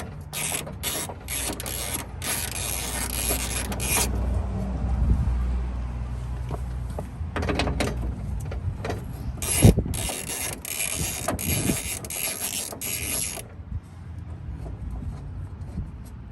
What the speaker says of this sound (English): Now we got to get the bolts off for the window regulator.